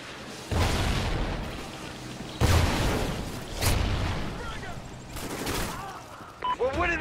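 Frag grenade explosions in a video game: several loud booming blasts with rumbling tails, mixed with game announcer voice lines and background battle noise.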